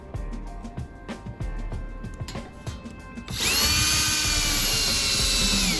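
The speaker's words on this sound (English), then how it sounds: "just take your next set of screws and screw in the holes at the bottom." Power drill driving screws into the bottom holes of a MegaMaxx vertical dual blue roll holder frame mounted on a wall; intermittent short bursts of drilling give way to a loud, steady, sustained whine up close.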